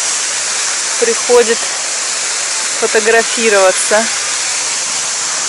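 Steady, broadband rushing of a waterfall in Alanya, Turkey, fills the whole clip at a constant level, with a person speaking intermittently over it.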